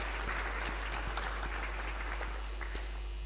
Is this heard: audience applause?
yes